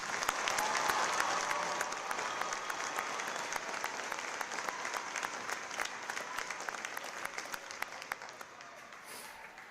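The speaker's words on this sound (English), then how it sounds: "How about a round of applause for outstanding performance?" A crowd applauds at a U.S. Navy Recruit Training Command boot camp graduation ceremony, a sustained roar of many hands clapping that starts full and gradually thins and fades over about ten seconds.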